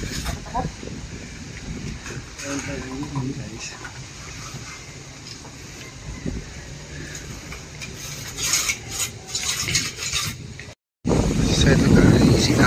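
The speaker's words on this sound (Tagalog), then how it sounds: "Kasi po yung hangin guys, lakas na." Strong wind before rain gusts and buffets the microphone outdoors in the Philippines, loud and uneven, with people talking over it and a sharp cut before a heavier roaring gust.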